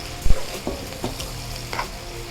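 Sweet and sour sauce with sugar gently sizzles and bubbles in a pan, steady and close, with a few soft clicks and light stirring taps.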